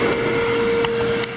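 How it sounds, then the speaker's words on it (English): DeWalt Quiet Tech shop vacuum running in a woodshop, a steady, even whine and airflow rush held throughout at close range, with no talking. "And that's my shop vac. That new DeWalt Quiet Tech is amazing."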